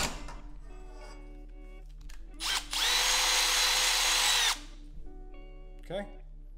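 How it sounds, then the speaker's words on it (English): A power drill whines loudly for about two seconds boring a hole in a copper bar, preceded by a short burst and followed by quieter handling clunks under a steady background hum. "I'm gonna drill a hole."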